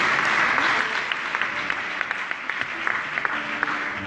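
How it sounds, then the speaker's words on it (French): Inside a church, a congregation applauds and cheers as men of God make their entrance: dense, sustained clapping with scattered sharper claps, holding fairly steady from start to finish. "Est-ce qu'on peut acclamer les hommes de Dieu qui font leur entrée?"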